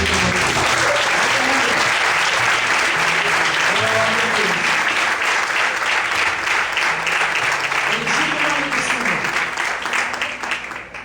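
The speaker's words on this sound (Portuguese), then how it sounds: "Se você queria aplaudir hoje" A church congregation applauding during a sermon, loud sustained clapping with cheering voices rising and falling through it, fading slightly at the very end.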